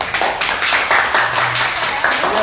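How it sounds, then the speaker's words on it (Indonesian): Clapping for a guest named Sonya at the close of a live talk session, a few quick bursts of hand claps under ongoing chatter. "terima kasih untuk tepuk tangannya buat Sonya"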